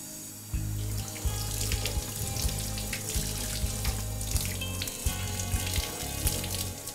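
Tap water runs steadily over freshly picked garden zucchinis being washed at a kitchen sink, a constant close splashing stream with a low hum underneath and no speech.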